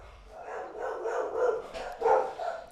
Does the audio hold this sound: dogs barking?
yes